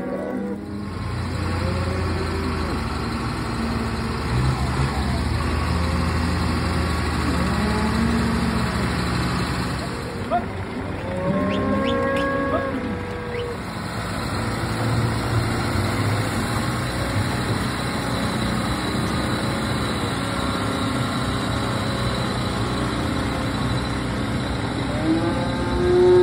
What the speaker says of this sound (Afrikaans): Ek gaan die trekker aan.